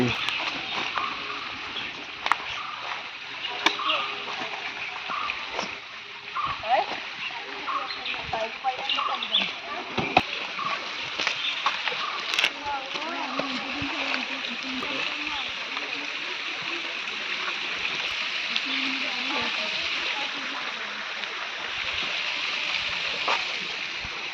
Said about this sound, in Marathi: ही कामची नदी बांध बघा कसा वाहतोय मस्त